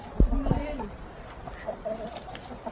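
Chickens clucking at a campsite in Manali, with a short sharp call near the start followed by quieter intermittent clucks over faint background noise.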